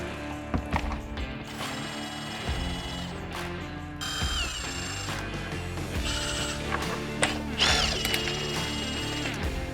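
A ratcheting tool or small power driver works T30 screws out of a Can-Am Maverick X3 fender, close and clear, with bursts of whirring and clicking ratchet mechanism separated by brief handling noises.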